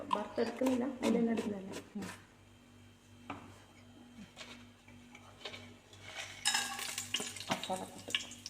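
Whole cinnamon and cloves fry in hot ghee in a cooker while ghee rice is made, giving a steady soft sizzle with occasional utensil clinks, voice-like sounds at the start, and a brighter hissing surge near the end.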